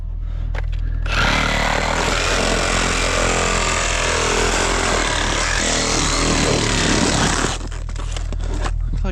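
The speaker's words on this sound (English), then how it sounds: "get our sawzall" Sawzall reciprocating saw cutting through pipe, a loud harsh buzzing grind starting after about a second and running steadily for six seconds before stopping, with brief handling noises around it.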